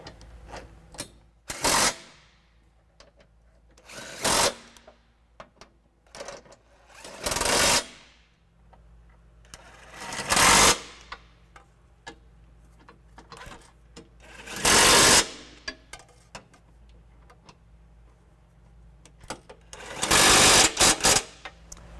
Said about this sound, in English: take our impact again in a 19mm socket this time and just snug everything down before I torque it